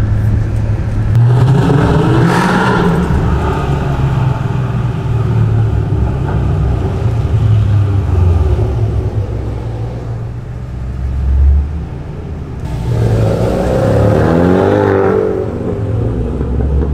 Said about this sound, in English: Stop revving!